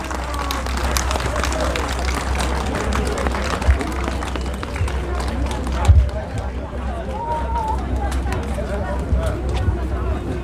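Crowd applause from an audience at an outdoor memorial ceremony at Seoul National Cemetery, a steady wash of clapping and crowd murmur lasting throughout, with a low hum underneath.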